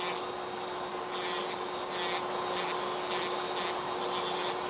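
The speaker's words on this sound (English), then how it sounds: "I'm actually like lifting in between each time that I'm filing" A nail file rasps across a natural fingernail in steady, evenly spaced strokes with brief pauses between them, close and fairly loud over a constant background hum.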